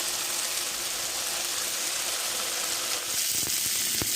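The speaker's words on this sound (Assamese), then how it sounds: "এইফালে এতিয়া ভাগৰ মাছ ফ্ৰাই কৰি থকা হৈছে" Fish sizzles steadily in hot oil in a pan, a close, continuous crackling hiss with a few sharp pops near the end.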